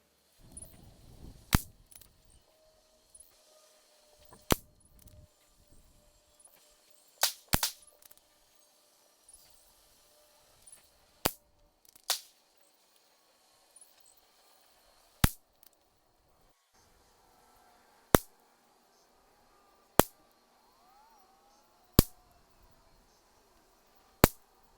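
Single rimfire rifle shots from a Ruger RPR and an enhanced Ruger 10/22 firing 40-grain ammunition ring out at an outdoor range, about a dozen sharp cracks spaced a couple of seconds apart with faint handling noises between.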